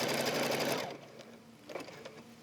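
A sewing machine stitches a fabric pocket onto a note holder, a fast steady mechanical whir that runs for about a second, then stops, leaving faint handling noises.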